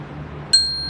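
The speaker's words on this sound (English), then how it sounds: "If you hear this sound, which is the doorbell sound, that means we're starting a new exercise." Doorbell sound effect marking the start of a new exercise, a single bright chime that strikes sharply and rings on cleanly over a faint low hum.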